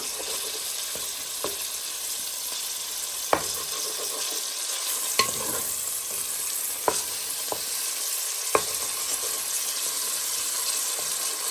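Pork browns in a pan alongside onion and garlic, a steady bright sizzle and fry hiss running throughout, with occasional sharp clicks and taps of stirring.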